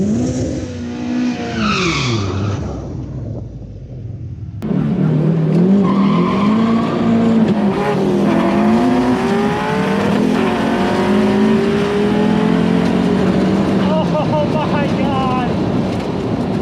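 Two cars with 500-plus horsepower builds drag race over an eighth mile, loud engines revving and climbing through gears with a short lull, then sustained roaring acceleration and a brief tire squeal, with voices faintly underneath.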